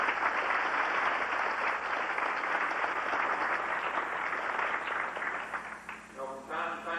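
Banquet guests at a 1989 Casey County FFA dinner give the cooks a sustained round of applause from a crowded hall. The clapping rolls on for several seconds, then thins as a voice begins speaking.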